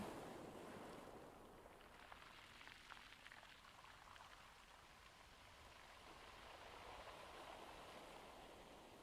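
Faint ocean waves wash in and out, a soft, distant, continuous surf with no voices.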